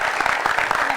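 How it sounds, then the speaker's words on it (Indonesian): A crowd claps continuously, a dense patter of many hands filling the whole moment with no voices on top. "Mbak Yantinya tepuk tangan dulu dong"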